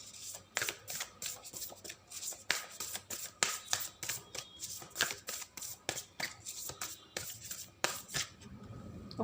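Tarot and oracle cards being shuffled by hand, a steady run of crisp riffling bursts close up with brief pauses between, no talking.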